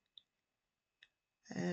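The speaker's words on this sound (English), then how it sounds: "I'm using my Cutterby scissors to do these." Small Cutterby craft scissors snip twice in quick, crisp clicks, close and isolated, before a louder rustling burst of handling noise at the end.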